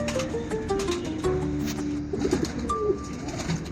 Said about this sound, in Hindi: ये देखें जी, ये तो बहुत ही प्यारे कबूतर हैं माशाल्लाह।